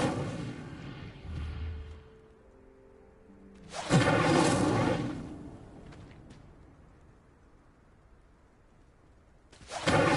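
Incendio fire spell cast in Hogwarts Legacy, a loud broadband whooshing burst about four seconds in that fades over a couple of seconds, with a second burst starting at the very end over a quiet game ambience.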